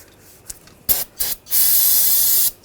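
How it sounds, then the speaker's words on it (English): Brake parts cleaner sprayed onto a 2009-2017 Volkswagen Tiguan front brake after hose replacement: a few short bursts, then one long steady loud hiss of about a second, close up with no talk. "Spray some brake parts cleaner,"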